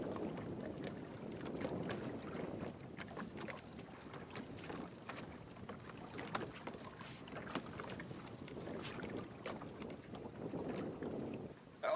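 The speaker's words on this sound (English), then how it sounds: "This wind's got me kicked sideways." Steady wind buffets the microphone while fishing from a boat for catfish, a constant low rumble with light water lapping and faint knocks throughout, with no talking.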